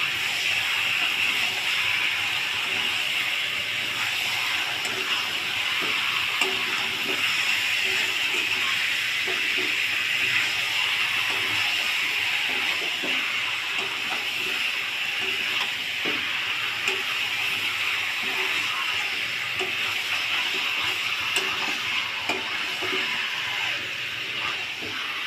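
Marinated chicken fries in a pan for chicken kosha, a dense, even hiss and sizzle that holds for the whole stretch with faint scattered crackles beneath, close and unbroken, no talking.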